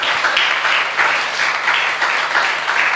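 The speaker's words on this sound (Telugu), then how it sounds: "సో చప్పట్లు కొడదాం గట్టిగా గట్టిగా" A church congregation at a Sunday service claps loudly and steadily together in a pulsing, rhythmic beat that fills the room, with no voices over it.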